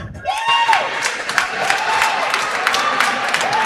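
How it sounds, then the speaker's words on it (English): Crowd noise fills the gym at a high school holiday basketball tournament: loud, continuous cheering and shouting with squeaking sneakers on the court cutting through the roar. "Let's just hear the crowd."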